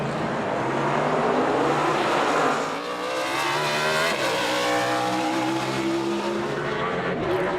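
NASCAR race cars roaring past at speed during a race, a dense, loud engine drone with shifting pitch sweeps as cars pass, joined by faint tire noise, with no voices.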